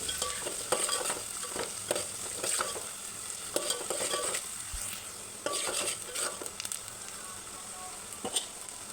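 Onions with curry leaves fry in hot oil until brownish, giving a continuous close sizzle. Repeated scraping and clattering stirring strokes sound against the pan.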